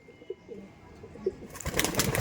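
Pigeons in a loft give a few brief, soft coos close by, then a burst of loud broadband rustling and flapping takes over near the end.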